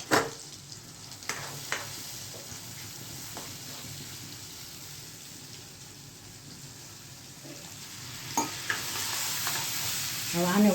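Tomatoes with turmeric, salt and coriander-cumin powder sizzle faintly in a pan for a Kathiyawadi sev tameta shaak, punctuated by sharp scrapes and clinks of a spoon stirring, with the frying hiss rising toward the end.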